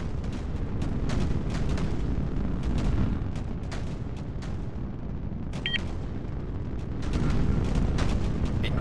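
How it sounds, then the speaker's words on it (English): Enemy artillery fire pounds in a video game as a continuous heavy rumble, with scattered sharper impacts and booms over the whole stretch, with almost no voice. "Incoming enemy fire"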